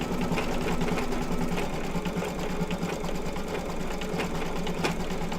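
An embroidery machine stitching a lacy stitch on an in-the-hoop winter hat mug rug, a fast continuous mechanical whirring hum with rapid needle ticking, steady and close throughout with no voices.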